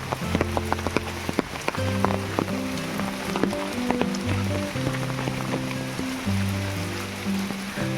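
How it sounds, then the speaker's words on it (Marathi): Rain patters steadily and close on an umbrella held in a forest, with scattered droplet taps over a constant wash and a low, sustained tonal hum underneath. "आता जे पाऊस वगैरे पडते छत्रीमध्ये आहे मी"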